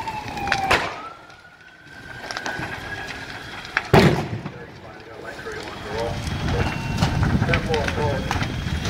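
A gas tank explodes in a burning mechanic shop in Lake Ronkonkoma, New York: one sharp, loud bang rises out of the fire-scene noise, followed by a rougher, louder rumble and crackle.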